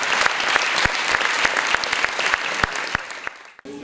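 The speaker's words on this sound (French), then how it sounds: "j'aimerais qu'on applaudisse pour lui." Audience applause for a young Gabonese man, Olivier Awanjo, at a talk on future jobs, a steady burst of many hands clapping that thins out and stops near the end.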